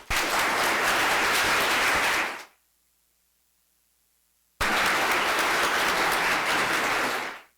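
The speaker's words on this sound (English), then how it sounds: "I urge all the residents to applaud this unique and vital institution" Loud audience applause for the Institute for Advanced Study at a Founders Day ceremony, two bursts of dense clapping split by roughly two seconds of silence.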